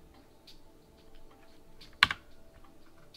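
Sparse, faint keystrokes on a computer keyboard while playing a puzzle game, a few soft taps and one sharper double click standing out against a quiet room.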